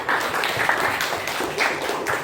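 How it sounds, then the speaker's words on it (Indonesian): Students in a classroom clap for a classmate during a lesson, a brisk, even burst of many hands at close range that carries on steadily for about two seconds. "beri tepuk tangan untuk teman kita"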